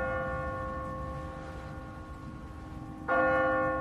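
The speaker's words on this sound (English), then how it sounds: "What kind of church bell goes off at 20 past the hour?" An automatic church bell on a timer in The Walking Dead video game rings out with a sustained, resonant tone, and a fresh, louder strike lands near the end with no talking.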